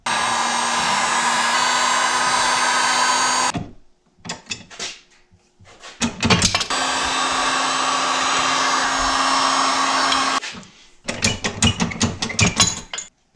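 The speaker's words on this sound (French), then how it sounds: "Pour ces boulons-là, prenez toujours un impact wrench de même." An air impact wrench on CR500 engine bolts whirs in two long loud sustained runs, each followed by clacks and rattles of the tool and parts being handled up close.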